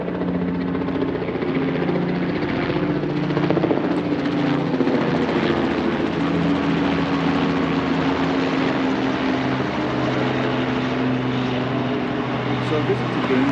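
A helicopter passes over downtown Seattle, its rotor drone a loud, steady rumble that carries through the whole stretch with city background beneath.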